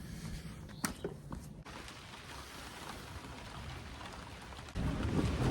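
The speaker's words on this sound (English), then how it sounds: "Well, it's peeing it down." Steady heavy rain hisses continuously, with a few sharper knocks early on and a louder, denser downpour toward the end.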